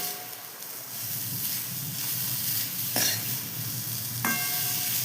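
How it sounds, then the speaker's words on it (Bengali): Grated coconut and jaggery are stir-fried in a pan to make a sweet, giving a continuous close sizzle with a couple of louder scraping strokes from the stirring. "নারকোলটাকে গুড় দিয়ে এবারে এটাকে ভাজবো আমরা।"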